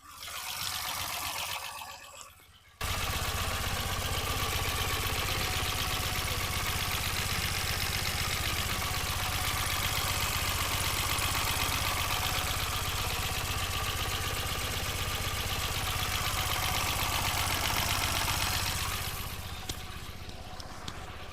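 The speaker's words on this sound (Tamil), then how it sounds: "இன்ஜினோட நாய்ஸ் நான் உங்களுக்கு மைக்கு பக்கத்தில் வச்சு எப்படி இருக்குன்றதை காட்டுறேன்" A Tata Nano automatic's small engine starts after a brief pause and settles into a steady, even idle, recorded close up, humming without change until it fades near the end.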